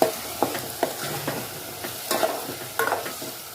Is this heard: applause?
no